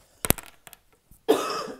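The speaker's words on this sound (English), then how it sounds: "Pardon me, I need to cough." A woman coughs a few times in quick short bursts, then clears her throat with a longer rasping sound, close and fairly quiet.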